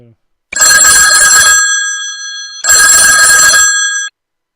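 A phone's built-in test ringtone rings loudly in two long bursts with a short silent gap between them. The tone is bright and steady, close to the microphone, and nobody speaks.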